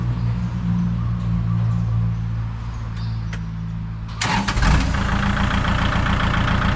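A used tractor with a front loader bucket runs with a steady low engine drone; partway through, a burst of louder clatter and revving comes in close and holds to the end.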